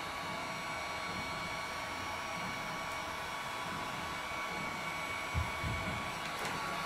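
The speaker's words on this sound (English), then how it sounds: "Gonna heat up that middle section a little bit again." Heat gun blowing on a WooduBend flexible moulding, a steady loud whooshing airflow that runs continuously with a couple of faint low bumps near the end.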